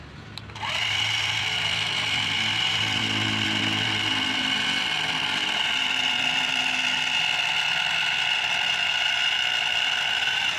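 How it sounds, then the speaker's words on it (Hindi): A small motor in a remote-controlled Mahindra toy tractor whines high and steady as it strains to pull a big, fully loaded trolley. It starts with a click and then holds a continuous buzzing hum with no talk. "ट्रैक्टर को काफ़ी ज़्यादा जोर आ रहा है ले जाने में"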